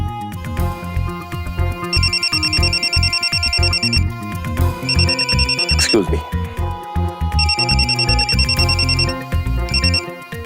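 A phone rings in repeated electronic bursts, two-second trills separated by short gaps, loud and close over music and a dramatic sound effect, with a brief spoken line in between.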